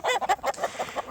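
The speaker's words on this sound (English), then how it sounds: "Come on, chickens." Chickens cluck in a quick run of short, close, fairly loud calls, one bird after another, with no talk.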